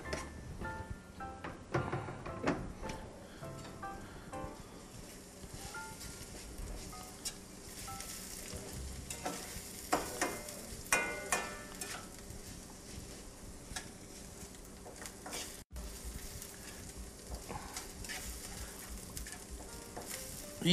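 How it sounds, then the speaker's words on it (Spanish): Chorizo frying in a pan with onion and garlic, a quiet, continuous sizzle with scattered crackles and pops and occasional stirring clatter, heard close without talk. "Y vamos a dejar sonar nuestro choricito con nuestra cebolla y con nuestro ajito."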